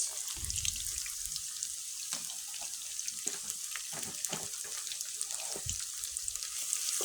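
Bay leaf, cinnamon and cardamom frying with softened onion for khichuri: a continuous faint crackling hiss with scattered soft pops and stirring knocks.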